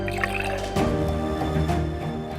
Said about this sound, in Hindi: रिया का गला सूख गया होगा, प्लीज उसे थोड़ा पानी पिला दीजिए